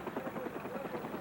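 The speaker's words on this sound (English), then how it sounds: "All Americans and Vietnamese at risk would be taken out by helicopter to" A helicopter during the Saigon evacuation makes a steady, throbbing rotor beat that pulses evenly at moderate volume.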